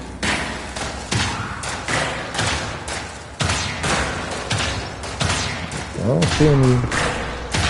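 Weapon fire in the game Ghost Song comes as repeated thudding shots and bursts at an irregular rhythm, loud and close, with a voice talking over them and a short rising electronic tone near the end.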